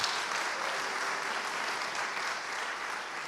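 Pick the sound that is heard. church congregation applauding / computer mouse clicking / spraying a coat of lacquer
church congregation applauding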